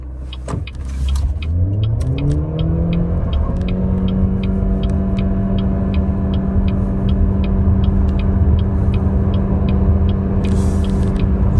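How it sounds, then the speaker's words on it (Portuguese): A BYD Song Plus 2026 SUV in Sport mode with traction control off launches from 0 to 100 km/h, its drivetrain whine rising steadily and loud inside the cabin while a timer beeps at a regular pace, with no talking. "agora vamos fazer o teste de 0 a 100"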